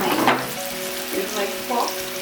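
Fish fries in a pan, giving off a steady, close, crackling sizzle that rises in a few brief swells, with no talking.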